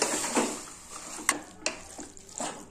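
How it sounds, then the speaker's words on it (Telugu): Mutton curry is stirred in a pan, with a soft scraping and sizzle running underneath and a few sharper clinks of the spoon against the pan at intervals. "ఇప్పుడు కూర వేస్తాను ఇందులో మటన్. వేసినాక దీన్ని ఒక 5 నిమిషాల నుంచి కలపాలి."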